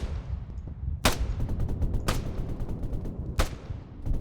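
Gunfire in the military shooter ArmA 3: three sharp, loud shots and a few fainter distant pops spaced over a few seconds, ringing over a low rumbling battlefield background with no talk.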